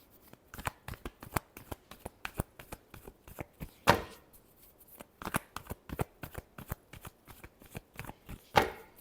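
Tarot cards being shuffled, a long run of crisp, rapid riffling slaps and flutters with a few louder snaps, close up and with no talk over them.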